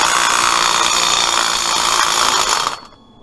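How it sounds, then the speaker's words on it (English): A power tool whirs loudly and continuously at close range, then winds down and stops near the end. "we're going to see if a bit of violence with a power tool will do it"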